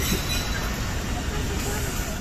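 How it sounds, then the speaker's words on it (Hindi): A goods train rolls past outdoors, giving a steady, dense rumble of wagons and wheels that stays constant throughout without a clear beginning or end. "रेलगाड़ी जा रही है माल वाली"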